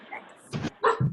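A pet dog lets out two short barks up close, yippy and a little whiny, during an online team video call, with a quiet lull before the first bark.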